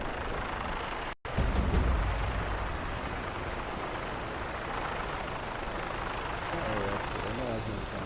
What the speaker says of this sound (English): Why's that helicopter actually?